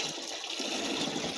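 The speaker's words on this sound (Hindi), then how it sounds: "इसके बाद में हम जो हमारा गौमूत्र है 10 लीटर, उसको हम इसमें डालते हैं।" Cow urine poured into a drum already holding some water, a steady gushing splash of liquid, close and continuous for over a second.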